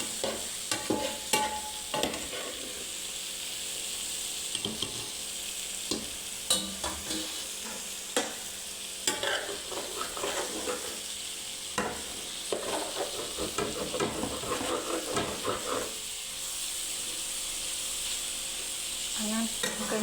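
Ingredients sizzle and fry in a pan while being stirred and tossed, with steady sizzling and repeated scraping knocks throughout, small and large pieces mixed together.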